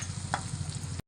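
A ground spice mixture frying in a pan while being stirred, a short close burst of sizzling with a brief scraping stir, cutting off abruptly after about a second.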